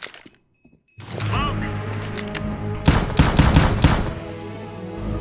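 Rapid bursts of gunfire ring out in a first-person shooter match as shots are fired through a boat, loud and dense with overlapping reports after a brief quiet start.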